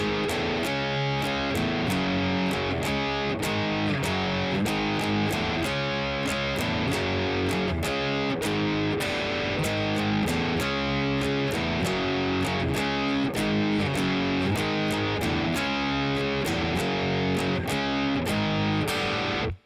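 A sustained stretch of loud, distorted electric guitar playing the driving intro riff of a song, steady chugging rhythm with sharp accented hits throughout, no voices.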